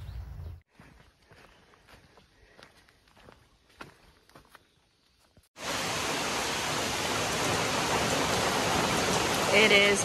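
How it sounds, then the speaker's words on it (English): Heavy pouring rain on the Appalachian Trail arrives abruptly as a loud, dense, unbroken hiss after a quiet stretch of footsteps and rustling, and then keeps roaring steadily to the end. "It is pouring right now."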